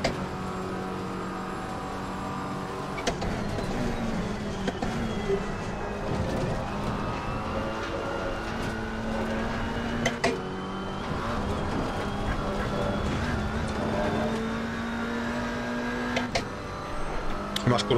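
A GT3 race car engine in Assetto Corsa Competizione screams at Monza, sustained and rising through the gears with sharp shift breaks, while someone talks over it.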